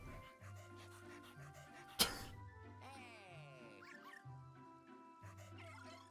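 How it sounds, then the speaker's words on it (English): A ghost dog in the video game Luigi's Mansion 2 HD pants and gives a few barks and yips over steady in-game music, with a short loud hit near the middle. "Ah, ghost dog."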